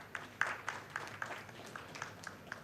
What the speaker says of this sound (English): A big round of applause for Vivek as well.